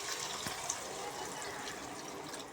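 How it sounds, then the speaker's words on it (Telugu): Fish curry broth poured into a cooking pan, a steady liquid wash of splashing and trickling that runs evenly throughout at low level, with no talk. "చేపల పులుసు ముక్కలో మునిగేదాకా వేసుకుని"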